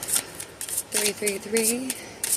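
Tarot cards are shuffled with soft, repeated riffling and flicking bursts, close and fairly loud, while someone talks over them.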